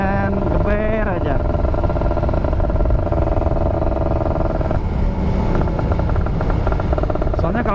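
A Kawasaki Ninja RR motorcycle engine revs while stopped at a red light in city traffic, a loud continuous buzzing two-stroke drone with pitch sweeps early on, heard up close and steady throughout.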